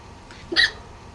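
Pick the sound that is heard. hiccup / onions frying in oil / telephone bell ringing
hiccup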